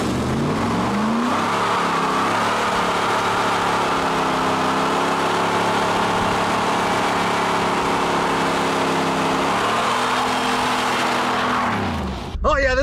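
A 1993 Chevrolet Camaro Z28 V8 roars at sustained high revs through a tire burnout, loud and close, its pitch rising and holding steady for about ten seconds before dropping off at the end.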